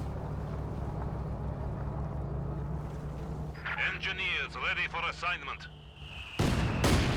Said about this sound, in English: Double mortars basically in the exact same position, just bombing away.